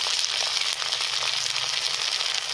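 Ginger garlic paste sizzles in a hot pan for badshahi paneer, a dense, even frying hiss with slight crackle, close and steady, no speech.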